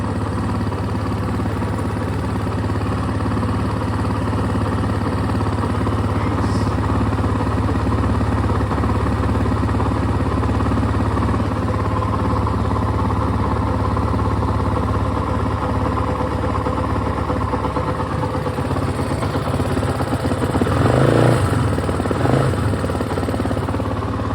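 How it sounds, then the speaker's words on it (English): A Kove 450 motorcycle engine runs steadily close up after being started for the first time, a continuous rough idle with a brief rise in revs near the end. "First time the bike's been started."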